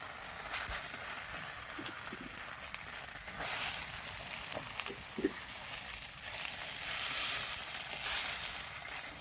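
Rohu fish with poppy-seed paste sizzling on an oiled banana leaf over a village clay stove, a continuous moderate hiss and crackle that swells and fades, with occasional soft knocks and no talking.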